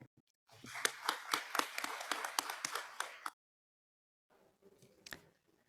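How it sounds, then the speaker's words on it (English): A conference audience gives a short round of applause: close, crisp individual claps for about three seconds, then silence, then a few faint scattered claps. "So please give them a round of applause and thank you."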